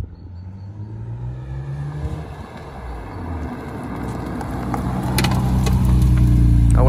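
A BMW M3 E36 Individual with Kelleners Sport tuning drives with a steady engine drone that swells and grows louder toward the end, heard from inside or close by with road noise and some clicks, with no talk.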